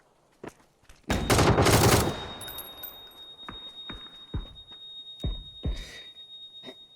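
Bursts of rapid gunfire from PUBG gameplay, with a loud volley near the start, then scattered single shots, with no talking.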